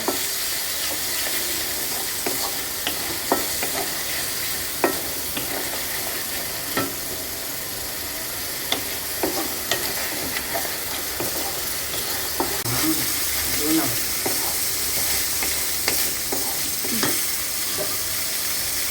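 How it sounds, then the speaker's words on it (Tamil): Ginger garlic paste sautéing in a pan of oil, a continuous sizzle broken by frequent clicks and scrapes of stirring, moderately loud and close, with no talking. "இஞ்சி பூண்டு நல்லா வதங்கிடுச்சு."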